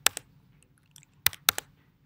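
A few sharp, close clicks of computer keyboard keys come in brief pairs with short pauses between them, crisp and isolated against a quiet room.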